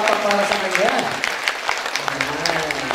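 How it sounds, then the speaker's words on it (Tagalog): Church congregation clapping together in worship, a dense burst of applause that thins into scattered claps while a preacher keeps speaking over it. "Come on, malakas ang palakpak para sa Kanya."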